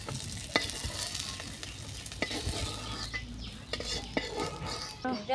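Fish sizzle steadily in a hot frying pan, with a constant crackling hiss broken by occasional scrapes and clinks of a utensil stirring against the pan.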